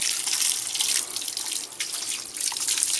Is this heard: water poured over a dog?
yes